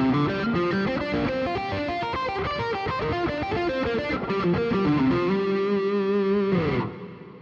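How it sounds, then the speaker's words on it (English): Distorted electric guitar picks a fast, even run of single notes in repeating pentatonic-fourths patterns with economy picking, ending on a held note that fades out. No talking. "So this is the Pentatonic fourths economy picking drill."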